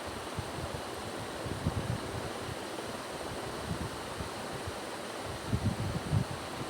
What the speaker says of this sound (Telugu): మునిగేంత వరకు వాటర్ పోసుకోవాలండి